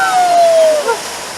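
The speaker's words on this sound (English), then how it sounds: "I know, but we got splashed." Water rushes and splashes steadily and loudly on the Fury of the Nile river raft ride at Worlds of Fun, close up, with a brief whistling tone over the spray before it eases slightly.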